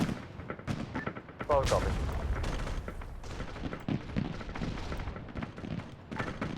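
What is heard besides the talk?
airstrike bombs exploding in Arma 3 video game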